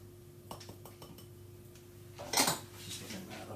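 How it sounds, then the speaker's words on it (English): Sugars being mixed by hand into homemade almond paste in a bowl: light clinks and taps of a utensil against dishware, then a louder scraping rustle, close by with no talking. "I'm now going to mix in those sugars."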